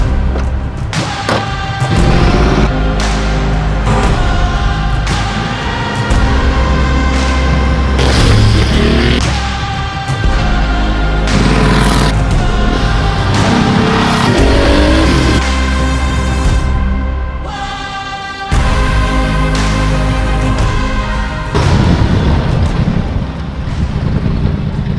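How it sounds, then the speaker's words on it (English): A restored Porsche 959 Paris Dakar rally car being driven, with a loud, continuous engine roar and heavy wind buffeting, plus thumps and surges as it accelerates. "Unser 959 Paris Dakar wird heute den ersten Kilometer absolvieren."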